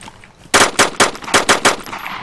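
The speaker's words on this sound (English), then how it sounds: "that sounded like a heavy machine gun" Heavy machine gun fire in the video game DayZ: a burst of six loud, sharp shots in quick, slightly uneven succession, each with a short ringing tail, ending in quiet.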